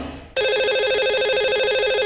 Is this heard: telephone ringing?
yes